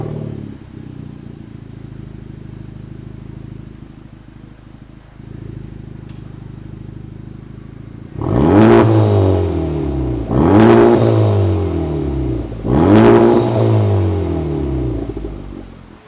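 A Honda Civic Type R FK8 hot hatch with a swapped aftermarket exhaust idles with a low burble, then gives three sharp blips of revving, each rising and falling quickly, loud and close with no talk.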